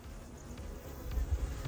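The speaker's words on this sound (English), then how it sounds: "Bees buzzing in the beehive." African bees buzzing at a beehive outdoors, a low, steady droning hum that swells slightly louder toward the end, with no voices.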